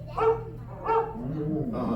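A dog gives two short barks close by, followed by a softer whine, during the Carousel of Progress show at Magic Kingdom, Walt Disney World.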